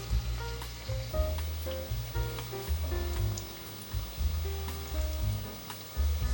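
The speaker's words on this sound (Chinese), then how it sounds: "定型了，可以翻面，再继续让它炸出焦感。" Potatoes with bitter melon deep-frying in hot oil give a steady, close sizzle with popping crackles throughout, layered under soft tonal background music.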